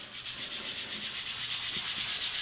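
Cleaning pad soaked in rubbing alcohol scrubbed back and forth across an Ender 3 Pro 3D printer bed, a close, steady rhythmic rasping of about a dozen strokes with no talking.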